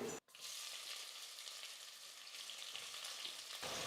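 Thinly sliced onions hit a pan of hot oil and whole spices for Tamil tomato rice, setting off a steady, dense sizzle close up that runs almost unbroken after a brief silent gap at the start.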